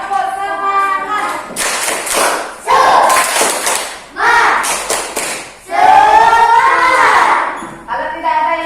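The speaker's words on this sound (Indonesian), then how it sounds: "kita tepuk semangat dulu ya. Tepuk semangat." A primary school class in an Indonesian classroom performs a spirit clap: the children clap and thump in a rhythmic pattern while chanting along loudly and close by.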